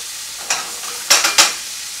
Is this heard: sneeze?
no